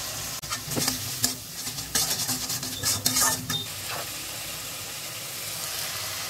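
Masala paste for catla fish head with Malabar spinach sizzles loudly in a pan as hot water goes in, a steady frying hiss broken by repeated scraping stir strokes, with no talking.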